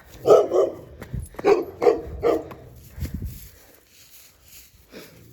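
Several dogs bark in a series of sharp, loud, close barks in the first half, then fall quiet apart from a faint yip or whimper near the end; no talking is heard.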